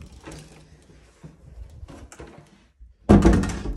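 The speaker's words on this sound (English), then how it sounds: "So the door open and closes fine with no concerns." A white painted interior door with silver fittings is moved through soft clicks and light handling knocks, then shuts with a loud close thud near the end.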